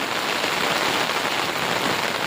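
Steady heavy rain drums on a flat concrete rooftop during a storm after a long dry spell, a dense, even hiss that runs close and loud throughout with no voices.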